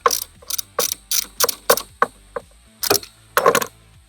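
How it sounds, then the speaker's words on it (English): Ratchet with a 10mm socket loosening the nut on a Chevrolet Silverado's negative battery cable, about a dozen crisp close clicking strokes in a quick uneven rhythm with brief pauses, no talk. "we'll just need a 10mm socket and a ratchet or a wrench. We'll just go ahead, loosen that up a little bit."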